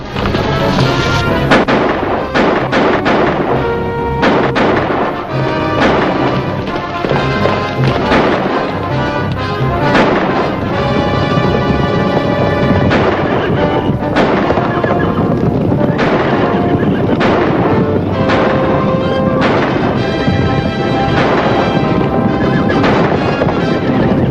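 Repeated gunshots crack through a Western film scene of riders driving a cattle herd, loud and continuous over a dense backdrop of music and hoofbeat-like noise, with sharp bursts scattered throughout.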